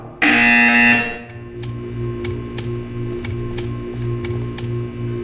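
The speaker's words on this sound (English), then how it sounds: "You will hear a buzzer." A buzzer from the Portal 2 video game test chamber gives one loud, steady tone for about a second. A series of regular ticking clicks follows over a low mechanical hum.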